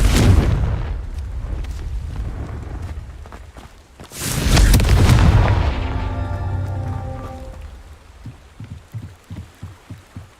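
A Confringo fire spell explodes in Hogwarts Legacy, a sharp loud blast with a rumbling tail, following an earlier explosive burst, then a ringing metallic shimmer and a run of soft rhythmic thuds fading out.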